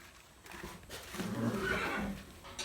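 A horse neighs in its stall at feeding time, a faint, drawn-out whinny swelling and fading against quiet background noise.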